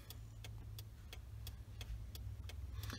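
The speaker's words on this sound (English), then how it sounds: "We'll switch our hazard lights on." Steady ticking of the hazard lights on a 2015 Subaru Crosstrek Hybrid, with crisp evenly spaced clicks about three per second over a faint low hum inside the parked car.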